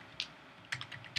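A computer keyboard being typed on in a few sparse, light key taps, close but quiet, with no voices.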